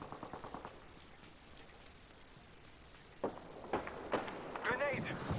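Video game gunfire crackles in short bursts, faint rapid shots at the start, then louder scattered reports later, mixed with wind-like noise and shooter combat ambience.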